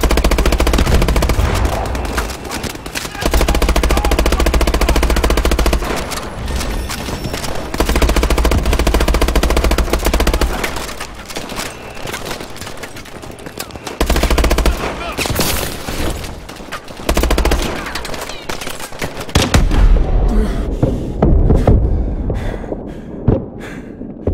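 Loud bursts of automatic gunfire in Call of Duty Advanced Warfare, in long and short volleys, with brief pauses and booming impacts. Battle noise and shouted voices fill the gaps.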